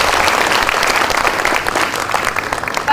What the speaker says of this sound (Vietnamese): tặng cho ông Xuân một tràng pháo tay